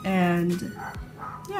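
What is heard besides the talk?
dogs barking outside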